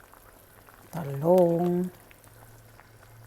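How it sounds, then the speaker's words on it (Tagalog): Fish simmering in a pot of sinigang soup gives a low, steady bubbling bed throughout, with a brief stretch of voice in the middle. "kumukulo na yung ating isda"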